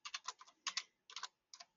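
Computer keyboard keys clatter quietly and close by in short bursts: a quick run of taps, a pause, then two more clusters of clicks and a final pair, with no voice.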